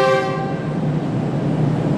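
The 15 Up Karachi Express sounds its whistle on departure from Sahiwal railway station, a loud sustained horn tone that fades within a fraction of a second over low station rumble.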